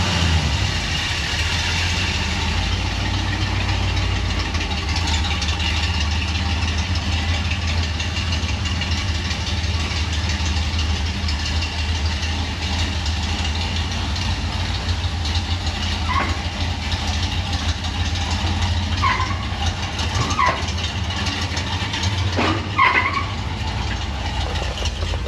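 A Ford B100 truck engine idles steadily with a low rumble and slight knock, close and continuous, with faint clicks and shifts later as it begins to pull away.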